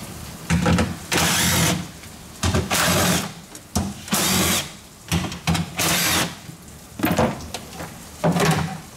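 On a Nissan S13 with a fuel smell, a power tool spins out the four 10mm bolts holding the fuel pump plate, whirring in loud, close bursts of one to two seconds separated by short pauses.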